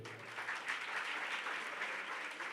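Steady audience applause after a dancer's speech, a dense, even wash of clapping hands from a crowd, fairly distant and with no voices.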